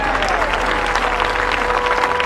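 Loud, dense applause from a crowd at an evening Christian gathering, continuous clapping from many hands sustained without a break across the whole stretch.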